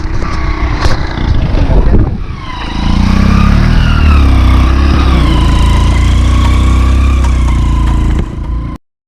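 A motorcycle ridden over a rough off-road track, its engine droning loud and steady for most of the ride, with clattering jolts near the start.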